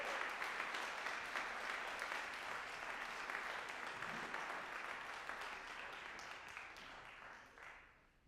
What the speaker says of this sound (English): let's give them one more huge round of applause